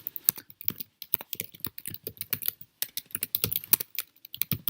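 Rapid, close typing on a computer keyboard: a dense run of crisp key clicks in uneven bursts with short pauses, heard alone without voices.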